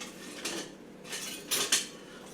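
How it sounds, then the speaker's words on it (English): Small metal tongs picked up: a few quiet, close metallic clinks and rattles against a faint background hiss, with no voices. "I'm going to use these little tongs. Let me grab them."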